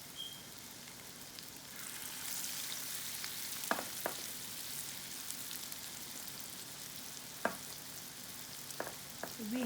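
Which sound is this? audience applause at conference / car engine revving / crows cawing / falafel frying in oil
falafel frying in oil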